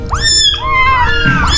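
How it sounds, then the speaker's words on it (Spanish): Several young kittens meow loudly and close by in a run of rising, overlapping high-pitched cries, with a low steady background hum underneath. "Se me complicaba un poco grabar ahí con el ruido que hacían los gatitos"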